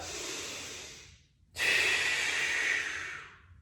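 Two close, loud breaths taken during a stretching exercise, each a long airy inhale or exhale, separated by a brief pause.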